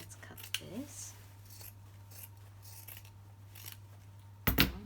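Scissors snip through crafting paper in a few short, crisp cuts near the start and again at the end, close and moderately loud over a steady low hum.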